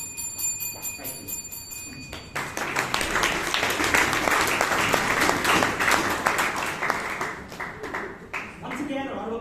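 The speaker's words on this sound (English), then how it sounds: "Once again, a round of applause." Applause from an audience at a Toastmasters club meeting in Bangalore, a dense crowd of clapping that breaks in after a short tonal lead-in and holds steady and fairly loud to the end.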